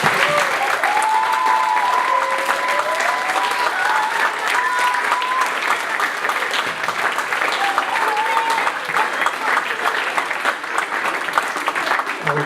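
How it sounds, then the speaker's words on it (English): A school audience applauds children at a talent show, with loud, steady clapping that lasts throughout. Voices and cheers are audible within the applause. "Can we give these children a round of applause, please?"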